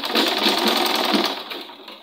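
Sewing machine stitching a bishop collar with the needle running just beside white interfacing, a steady close whirring hum with a rhythmic pulse that holds for about two seconds and eases slightly at the end, no talking.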